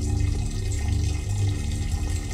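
Steady stream of liquid running continuously in a video game bathroom scene in The Inevitability, a character urinating, heard close and fairly loud with no talk over it.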